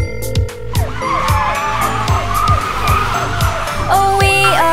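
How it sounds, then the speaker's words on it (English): A cartoon car skids through repeated high tire squeals over a steady engine drone, ending in a louder burst as it crashes into a tree. "The bear car staggers, crashes into a tree."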